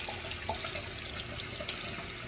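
Tap water runs steadily into a sink while a plant pot is rinsed, a continuous splashing stream with small bursts, close and fairly quiet.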